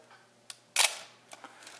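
A Nikkormat FTn film SLR fires its shutter at 1/30 second: a faint click, then a louder, slightly drawn-out mechanical snap close by, followed by soft handling clicks, no voices.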